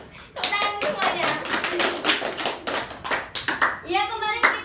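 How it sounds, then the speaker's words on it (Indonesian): A class of children claps hands in a classroom, a burst of irregular, fairly close claps with young voices calling out between them. "Tepuk tangan semuanya."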